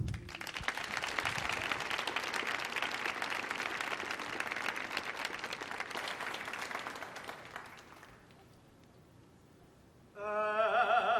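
An audience claps warmly to welcome a hula troupe onto a concert stage, sustained loud applause that fades out after several seconds before chanting voices begin.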